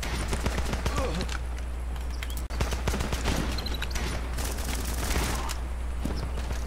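Rifle gunfire in the Running With Rifles game, an ongoing barrage of rapid overlapping shots and bursts with a steady low battlefield rumble beneath and one brief dropout in the middle.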